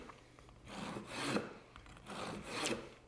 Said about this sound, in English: use a serrated knife, so that you cut through the pistachios, and you get a nice, clean cut